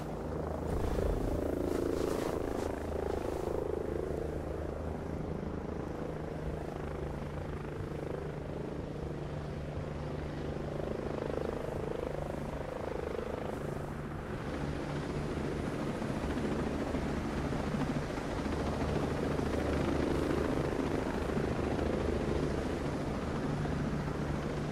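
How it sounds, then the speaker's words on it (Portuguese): A helicopter in the tactical shooter Ghost Recon Breakpoint drones steadily through a continuous rotor and engine roar, with a dull rhythmic thump and no one talking. "Tem um helicóptero na área, capitão."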